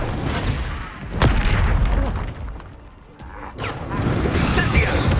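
Confringo blasting curse explosions in Hogwarts Legacy, with loud booming crashes and bursts during a fight, one sharp blast near the middle and others over continuous rumbling noise.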